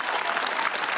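Comedy club audience applause on Comedy Club, a brief, loud, dense burst of clapping.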